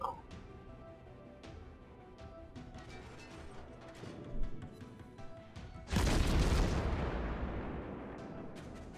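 The Konigsberg cruiser's turrets firing AP shells in World of Warships, with sharp distant-sounding gun reports over a low rumble, then a sudden loud booming salvo that roars and slowly fades.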